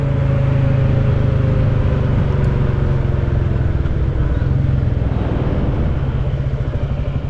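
A Royal Enfield Classic 350 motorcycle ridden on open roads, its engine droning steadily with a thumping low rumble and constant wind roar throughout, loud and close with no break.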